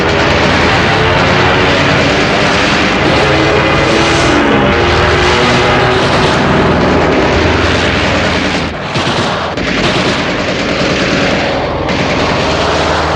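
British Royal Air Force planes roar overhead in a continuous, loud, dense engine drone that swells and dips briefly midway, with rumbling bursts mixed in and no voices.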